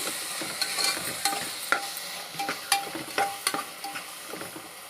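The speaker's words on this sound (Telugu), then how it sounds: "ఇది మనం ముందుగా చేసుకున్న మసాలా వేసేయాలండి ఇదంతా బాగా వాడనివ్వాలండి ఆయిల్లో" Masala sizzling in hot oil as a spoon stirs it around the pan for a goat tripe curry, with steady frying crackle and repeated scraping strokes in an irregular rhythm, close and fairly quiet.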